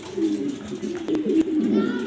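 A male pigeon coos softly and low, rolling on continuously, a murmuring burble close by with a couple of sharp clicks partway through.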